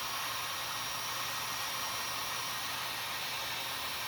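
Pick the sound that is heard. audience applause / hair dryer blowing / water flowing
hair dryer blowing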